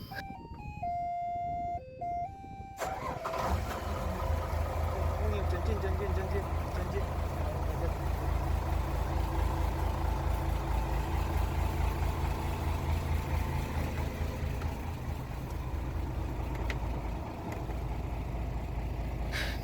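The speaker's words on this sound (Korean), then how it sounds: "그럼 시동을 켜 해수 펌프가 어떻게 작동하는지 보겠습니다" A fishing boat engine starts up and settles into a loud, steady running rumble with a droning low hum, while someone talks over it.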